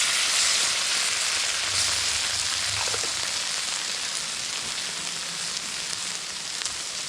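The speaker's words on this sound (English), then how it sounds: "We'll kind of sizzle this down," Food sizzles steadily in a pan over a camp stove as liquid cooks down, a loud, continuous frying hiss with a few faint clinks and no talking.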